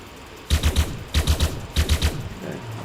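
Pistol fire from a handgun in the game Elite Dangerous Odyssey, heard as three sharp bursts of three rapid shots each, evenly spaced, loud and close with no talking.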